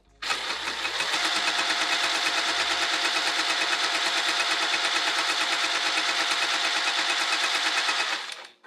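A sewing machine stitching a Rosetta bag, starting up with a few short bursts and then running in one fast, even, continuous whir close by before stopping abruptly at the end.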